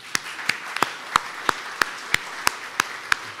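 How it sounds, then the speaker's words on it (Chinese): A church congregation at a Taiwanese-language Sunday service clapping to welcome guests, heard as a steady run of about ten sharp, evenly spaced claps, fairly crisp against a quiet room. "咱拍手甲欢迎吼"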